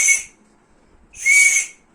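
Two short, breathy whistle tones blown on a bansuri bamboo flute, separated by about a second of silence, clear and close with no talk.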